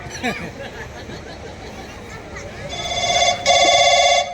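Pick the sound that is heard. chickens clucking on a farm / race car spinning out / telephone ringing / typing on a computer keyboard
telephone ringing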